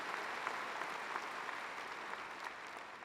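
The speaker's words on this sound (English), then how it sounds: "Absolutely, give yourself a round of applause." Graduates and guests at a spring commencement ceremony for the University of Texas Moody College clap steadily in a large, dense wash of applause that holds level throughout, with no voices standing out.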